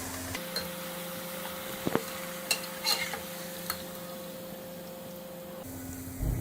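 A puri is deep-fried in hot oil for halwa puri, giving a steady, even sizzle with a faint continuous hum and a few soft clinks of a utensil near the middle.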